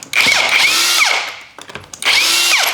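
A power tool whirs in loud, close bursts as it spins lug nuts off a wheel of a 2013-2020 Nissan Pathfinder, two high-pitched runs separated by a short pause of clattering.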